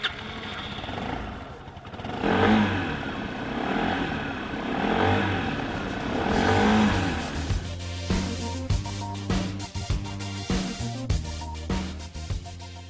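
A Keeway Logik 125 scooter with a water-cooled four-stroke single making 12 horsepower runs with a smooth hum that swells and eases, then settles into a throbbing idle with faint rhythmic clatter, heard close.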